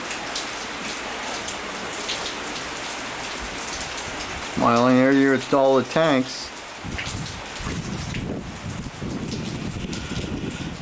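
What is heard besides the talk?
rain falling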